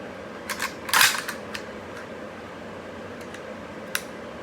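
The magazine of a Century Arms VSKA AK rifle is seated and removed with a few sharp, close mechanical clicks and clacks over a steady background hum, plus one crisp click near the end.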